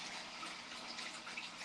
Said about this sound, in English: A lot of splishing and splashing.